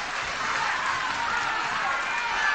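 A wrestling crowd roars in reaction to a move, a broad, steady wall of cheering and noise at moderate volume with no distinct voices.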